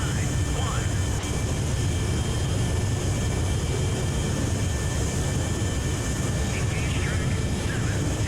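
Demon jet aircraft in the naval strategy game Sea Power roar in a constant loud engine rush with a high whine on top, steady throughout.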